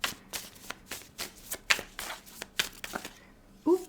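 Tarot cards being shuffled close by, a quick series of crisp riffling bursts roughly every third of a second, with a brief soft voice at the very end.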